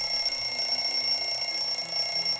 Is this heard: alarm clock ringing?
yes